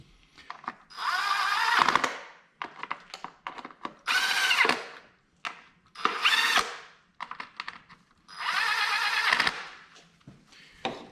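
A power tool tightening bolts on a Ford Fusion engine during a DIY oil leak repair: four or five short, whirring drill-like bursts of a second or so each, close and loud, separated by clicks and quiet gaps.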